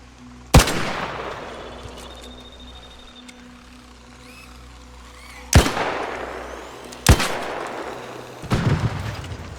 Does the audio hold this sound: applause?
no